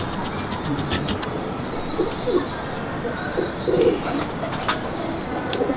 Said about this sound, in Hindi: खान साहब, कौन से कबूतरों का शौक़ करवा रहे हैं हमारे नाज़रीन जी?